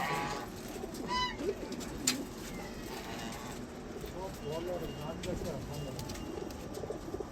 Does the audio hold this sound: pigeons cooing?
yes